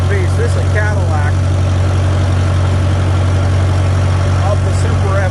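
A Farmall Super M-TA tractor engine runs with a steady, loud low rumble and continuous drone throughout, while someone talks over it.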